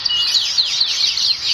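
A Java finch calls at close range, giving a quick series of bright, thin, downward-sliding chirps about every quarter second with no other sound.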